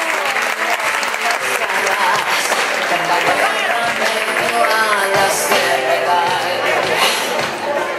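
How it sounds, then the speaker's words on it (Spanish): A loud, continuous round of applause from a large audience at a civic ceremony in Morelos, Mexico, dense and unbroken, with cheering voices mixed into the clapping. "Un fuerte aplauso para Lindsay Mejía Ansúrez."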